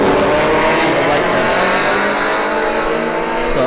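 At a street drag racing event, cars including a Shelby GT350 launch down the strip, a loud continuous engine roar with rising revs close to the microphone, under a commentator's voice.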